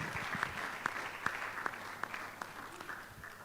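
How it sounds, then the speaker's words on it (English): Faint, thin applause from a small audience welcoming panelists at a mental health public lecture, with a few distinct individual claps standing out over soft background clatter, gradually tapering off. "shall we give a round of applause as we welcome our panelists?"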